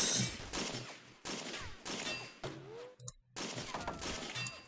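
Rifle fire at targets on a firing line in the WWI video game Battle of Empires 1914-1918, a rapid irregular run of sharp cracks and impacts, loud and close, with no talking.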